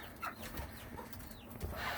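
Chickens in a backyard coop near a quail setup, giving scattered soft clucks and short calls over low background noise, with no talking.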